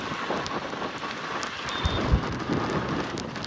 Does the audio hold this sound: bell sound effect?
no